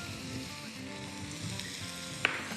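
Carrot pieces drop into a small amount of hot oil in a home kitchen, giving a steady close sizzle that hisses throughout, with a brief sharp clink near the end.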